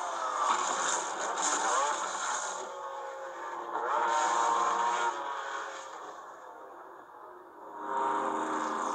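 McLaren race cars lap the 1995 Le Mans 24-hour race, heard as a muffled, broadcast-quality engine drone that rises and falls in waves as the cars pass.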